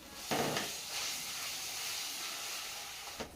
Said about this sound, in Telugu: అల్లం కూడా మంచి నూనెలో అయితే ఫ్రై అవ్వనివ్వాలి